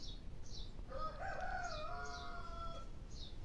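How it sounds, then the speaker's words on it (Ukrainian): A rooster crows at a middle distance in a rural yard, one drawn-out call, while small birds chirp repeatedly and faint background noise continues. "І пітушок підспівує."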